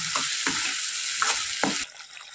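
Ground masala paste sizzles steadily in hot oil for a soybean vegetable curry, with a spoon scraping and stirring in several short strokes before the frying hiss drops abruptly near the end.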